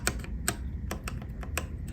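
Key presses on a Massdrop CTRL mechanical keyboard fitted with Holy Panda X switches, a steady run of crisp, close clicks and clacks spaced about every half second, with no talk over them.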